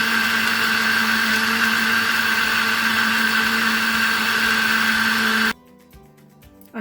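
A blender runs steadily and loudly, whirring a milkshake of one scoop of vanilla ice cream with vanilla under the lid for about five seconds, then cuts off abruptly into quiet.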